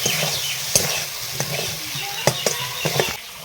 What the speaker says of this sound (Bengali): আবার নাড়াচাড়া করব।